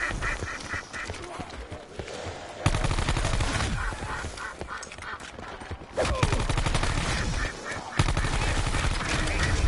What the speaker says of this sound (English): Shoot that green thing.